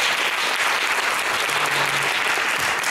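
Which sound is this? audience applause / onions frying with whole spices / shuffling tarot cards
audience applause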